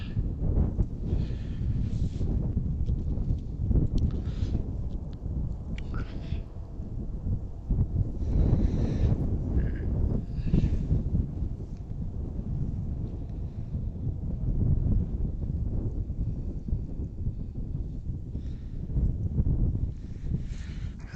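Wind buffets an outdoor microphone in a continuous, loud low rumble with gusty surges, at a riverside plane-spotting spot by an airport, alone without talk.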